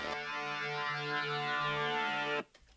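A buzzy, harmonically rich synthetic riser swells and sustains for about two seconds, then cuts off abruptly into near silence.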